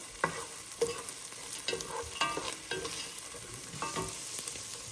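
Onions fry in a pan until browning for bagara rice, a soft continuous sizzle broken by several sharper stirring scrapes, quiet and close, with no talking.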